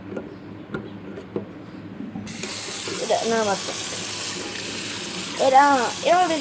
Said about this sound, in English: And the water is going down the drain. And it's gonna make a gurgle sound.